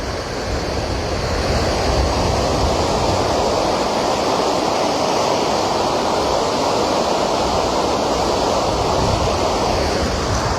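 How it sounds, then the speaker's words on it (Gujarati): Water from an opened gate of the Machchhu dam in Morbi rushing into the river, a loud, constant roaring wash that fills the whole stretch without a break. "પાણી ધીમે ધીમે જે છે તે હવે આ દરવાજામાંથી બહાર નીકળી અને નદીમાં આ જઈ છે"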